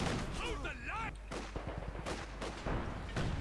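A heavy IS-2 tank gun firing in the Company of Heroes 2 strategy game, with a booming shot amid a dense din of battle noise, while a commentator talks throughout.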